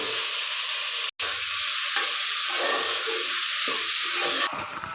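Tomatoes, curry leaves and spices frying in a pan for a country-chicken khurma, a steady loud sizzle and hiss with soft stirring scrapes throughout, briefly cutting out once before a louder crackle at the end.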